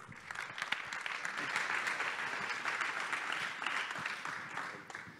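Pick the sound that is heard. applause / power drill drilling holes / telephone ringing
applause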